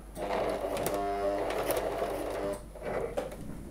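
A sewing machine stitches across the fly of a pair of jeans, running in a close, rapid mechanical chatter for a few seconds with a brief pause near the end.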